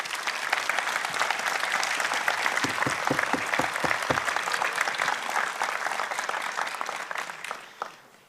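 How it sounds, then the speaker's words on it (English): Audience applause for graduates at a commencement ceremony, a sustained dense burst of many clapping hands that holds steady for several seconds before tapering off at the end. "A round of applause for our graduates,"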